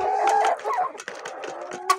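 Laying hens on a farm cluck and cackle steadily and close by, with bursts of clucking and a brief rooster-like call near the end and no speech.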